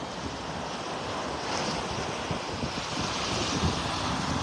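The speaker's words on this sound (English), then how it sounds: "if you look out there in the water, you can see some waves breaking." Gulf of Mexico surf at a beach in North Naples, Florida, makes a steady, broad wash of breaking waves mixed with wind noise on the microphone, with no talking.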